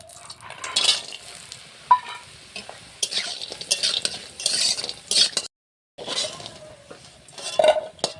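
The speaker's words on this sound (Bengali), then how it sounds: "এখন আমি বড়ি ভেজে নেব" Bori lentil dumplings frying in hot oil in a heated pan, with steady close sizzling, a metal spoon stirring and clinking against the pan, and a short silent break before the frying resumes.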